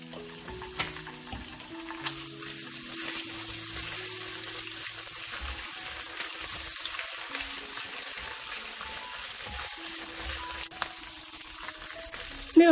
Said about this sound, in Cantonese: 落1湯匙嘅豆瓣醬爆香。